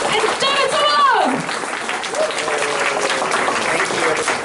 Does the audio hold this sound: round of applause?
yes